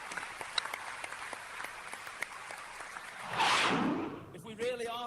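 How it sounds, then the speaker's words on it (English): Applause from an audience at a live rally show event swells briefly after sparse clicks and a faint voice, then fades back to speech-like sound. "we have to give a round of applause to Goo and the boys"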